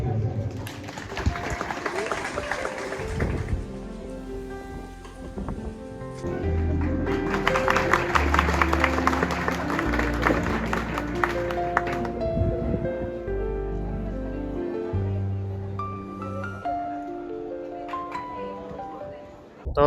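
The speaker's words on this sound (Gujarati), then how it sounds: "તો બધા આ સન્માનને જોરદાર તાળી આપો" Audience applause at a farmers' meeting in Gujarat's Ghed area, bursts of clapping from the seated crowd swelling and fading over several seconds, interleaved with talking and background music.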